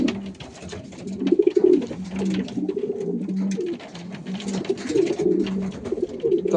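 Several racing pigeons coo in low, rolling, repeated calls close by in an aviary, layered over one another with faint rustling in the background.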